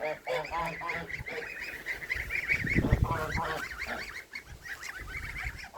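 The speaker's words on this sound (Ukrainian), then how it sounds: "Гуси йдуть на моріжок, гусенята лишаються внизу." Several geese honk repeatedly in a noisy, overlapping chorus close by, with some low rustling and movement underneath.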